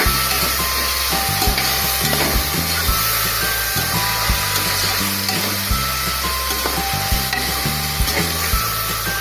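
Tomato pieces with mint and coriander fry in a pan for a pressure-cooker chicken biryani, giving a steady broadband sizzle with occasional stirring scrapes, moderately loud and continuous without speech.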